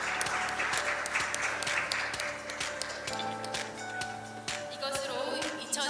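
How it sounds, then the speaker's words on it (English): Sustained audience applause fills a conference hall at an international IP court conference, dense clapping continuing steadily throughout with a few sharper taps near the end. "Once again, please give him a big round of applause."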